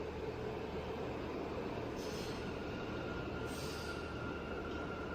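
R179 subway train in the Cities Skylines 2 game screeching as it pulls away, a steady rumble of rail noise under faint high squeals of wheels that flare briefly twice.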